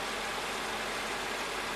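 The 5.5 liter V8 of a 2002 Mercedes-Benz S55 AMG runs at a smooth idle close by, producing a constant low rumble and broad hum that stays level throughout.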